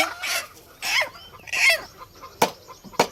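Village desi chickens cluck in short, sharp bursts close by, five distinct calls spaced irregularly with quiet gaps between them.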